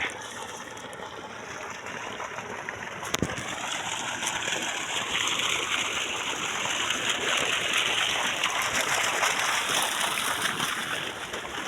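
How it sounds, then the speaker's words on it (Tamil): Water gushes and splashes steadily from an agricultural pump set outlet in a village, a continuous close rush with a brief sharp knock partway through. "பாருங்க தண்ணி செம்மையாக போயிட்டுருக்கு"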